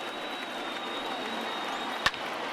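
A baseball stadium crowd of over 39,000 in MLB The Show 20 cheers and applauds steadily at moderate distance, with one sharp close knock near the end.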